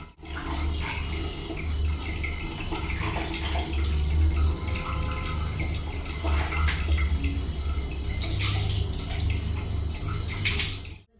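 Something is rinsed clean under running tap water in a home kitchen, a steady close splashing and gushing that shifts in texture as it is moved about, with no talking.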